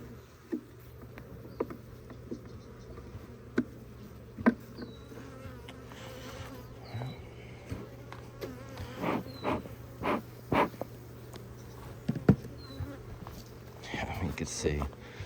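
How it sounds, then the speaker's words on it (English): A crowd of honey bees hums around an opened hive during a calm winter inspection, a steady low drone with scattered sharp taps and handling clicks, and people talking briefly nearby. "A lot of bees."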